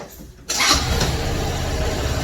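A fuel-injected Motogusto Santa 125 motorcycle engine cranks and catches after a brief quiet moment, then settles into a loud, steady idle close by.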